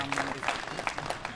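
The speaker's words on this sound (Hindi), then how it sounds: "जोरदार तालियां बजाइए भाई" Applause from an audience at a village honoring ceremony held on Subhash Chandra Bose Jayanti in Barauda, Jind. Short, dense clapping with a voice speaking over it.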